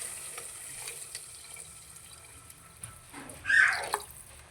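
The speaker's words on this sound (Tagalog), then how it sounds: "Nilalagyan natin siya ng tubig." Water pours into a cooking pot of ginger for a clam soup, a soft splashing gush toward the end amid faint background sizzle and clatter.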